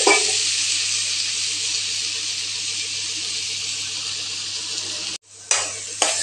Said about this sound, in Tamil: நல்லா வதக்கிக்கலாங்க.